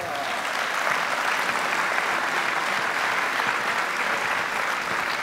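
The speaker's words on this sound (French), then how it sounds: "sous vos applaudissements." Sustained applause from a crowd at a municipal New Year's greetings ceremony in Le Portel, France: even, continuous clapping fills the hall for several seconds without a break.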